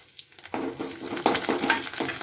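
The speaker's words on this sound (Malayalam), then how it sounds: "ഇതെല്ലാം ഇട്ട് നന്നായി ഒന്ന് ഇളക്കി കൊടുക്കാം." Dried red chillies and curry leaves sizzling in hot oil in a pan for a pumpkin and curd curry, a quiet start and then a close crackling fry with repeated stirring scrapes and light spatula knocks.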